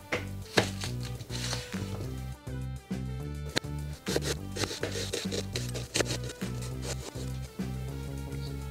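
A knife chops an onion on a small Daiso natural-wood cutting board sized for a mess tin, giving a steady series of close, crisp knocks with no talking.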